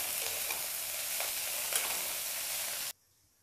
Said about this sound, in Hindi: देखिए चिंगरी अच्छे से फ्राई हो गया, इसका कलर भी चेंज हो गया।